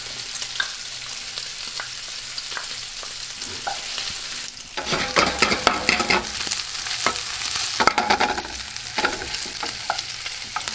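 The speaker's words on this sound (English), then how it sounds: "And we start to saute the bacon. Now this bacon it's chopped really small. And now you put the garlic." Chopped bacon sizzles and fries in a pan with minced garlic, a steady crackling hiss that swells louder midway as more goes in, with occasional scrapes of stirring and no talking.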